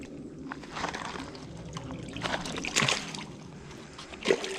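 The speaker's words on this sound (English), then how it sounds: "He's getting water all over me." A hooked carp or bluegill thrashing at a woods creek, throwing irregular sloshing splashes close by, with a few sharper bursts of water amid steady outdoor background.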